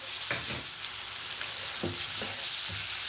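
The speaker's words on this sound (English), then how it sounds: "You stir like this. You stir this onion." Onion frying in coconut oil in a pot, a steady close sizzle broken by several distinct scraping spoon strokes at irregular intervals, with no talking.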